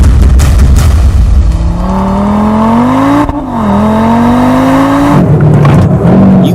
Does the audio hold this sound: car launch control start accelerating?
yes